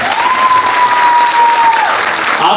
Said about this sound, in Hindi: इस शहजादे के लिए बहुत सारी तालियां।